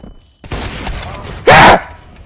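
Counter-Strike 2 gunfire in a match: a sharp report just before the half-second mark followed by a sustained noisy burst, then a second, louder and brighter blast around one and a half seconds that fades quickly.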